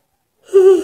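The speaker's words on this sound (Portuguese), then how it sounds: "Eu vou bocejando." A single drawn-out human yawn, close and fairly loud, rising from silence into a breathy, voiced sigh that trails off near the end, with no talk over it.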